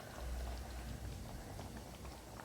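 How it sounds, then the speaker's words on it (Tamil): Soft, steady bubbling of a pot of crab gravy at a low simmer, faint and continuous with no voices. "ஓகே, இது ரெண்டுமே கொஞ்சம் கொதிக்கட்டும்."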